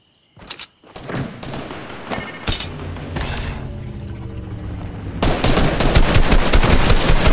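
Gunfire in the Fortnite battle royale game, loud and close, with a few sharp isolated shots early, then rapid bursts and sustained automatic fire that grows denser and louder toward the end.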